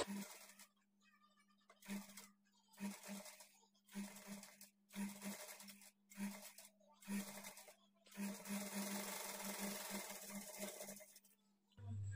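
A sewing machine stitches a blouse sleeve to the body in short, separate bursts of motor hum and needle clatter, then runs in one longer stretch near the end.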